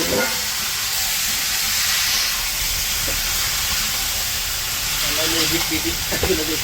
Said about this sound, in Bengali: মশলা কষানো হয়ে গেছে এখন হচ্ছে সবজিগুলো দিয়ে দিল সবজি কষিয়ে